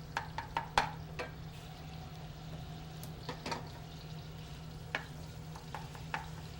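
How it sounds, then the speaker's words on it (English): Pork browning in a pan, a soft low sizzle under a steady hum, broken by scattered clinks and scrapes of a utensil stirring, quiet and close. "our pork is cooking nicely"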